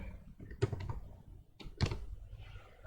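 Q-Basic code being typed on a computer keyboard, heard as two short clusters of close key clicks separated by a brief pause.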